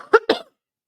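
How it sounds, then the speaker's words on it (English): Two quick, close coughs in succession, dry and fairly loud, followed by silence. "I'm going to cough again"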